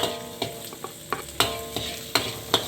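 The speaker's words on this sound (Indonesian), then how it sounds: "Kita oseng-oseng bawang putih dulu, karena bawang putih itu agak lama ya." Garlic stir-fried in hot oil, a soft sizzle punctuated by regular scraping strokes of a spatula against the pan, about two per second, close and clear with no talking.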